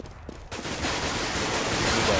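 Gunfire from a Five-seven pistol in a Counter-Strike match on de_season: a quiet start, then a loud, continuous wash of rapid shots and game noise that holds steady to the end.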